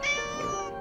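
A cartoon cat from an animated Mr. Bean episode gives a single clear, drawn-out meow lasting under a second, close and alone with no talk.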